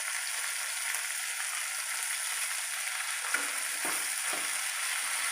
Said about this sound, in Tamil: ரொம்ப நல்லா ஃப்ரை ஆகிருக்குதுங்க.